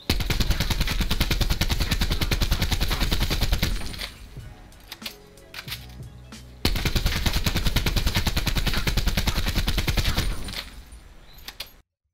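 ICR rifle in a video game fired aiming down sights with no attachments: loud, rapid automatic bursts with dense repeated shots, a brief pause with clicks and mechanical handling, then another long sustained burst.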